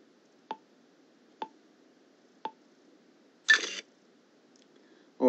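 An Amazon Alexa device's camera takes a selfie: three evenly spaced soft countdown beeps, then a short shutter-like click burst, all near and quiet over faint background hum.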